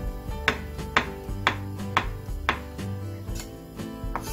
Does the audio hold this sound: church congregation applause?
no